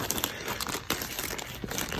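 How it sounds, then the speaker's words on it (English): A plastic bag crinkles and rustles steadily while being packed for a road trip, with sharper crunches scattered through the close, continuous handling noise. "I have a plastic bag all ready to go"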